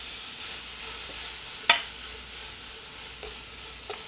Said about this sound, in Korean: 여기에다가 어묵, 그다음에 느타리 버섯 같이 넣어요